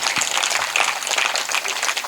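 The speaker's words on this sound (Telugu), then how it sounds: "మారాలన్న వాళ్ళందరూ గట్టిగా చప్పట్లు కొట్టండి ఒకసారి." A church congregation in Eluru claps together at a pastor's urging, a dense, steady patter of many hands sustained throughout, fairly loud and filling the space.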